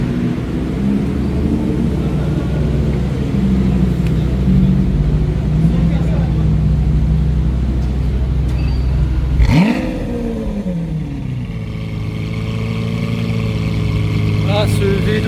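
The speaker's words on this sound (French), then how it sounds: "on va se faire le petit démarrage de l'Aventador avec le voiturier à l'intérieur" A Lamborghini Aventador V12 idles with a deep, loud, steady drone, then fires up sharply into a rising rev that settles into a throbbing idle. Voices are faint in the background.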